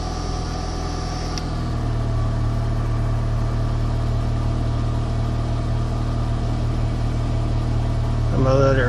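A Chrysler PT Cruiser engine idles steadily while warming up after a tune-up with new spark plugs, a close, constant low hum with a brief shift near the start and a slight rise at the end.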